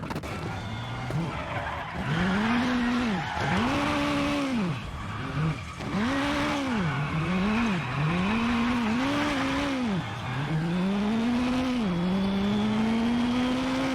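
A rally car in the WRC 9 game, on Rally Turkey, spins a donut around a tree. Its engine revs loud and rises and falls in steady arcs, with gravel and tire scrub throughout.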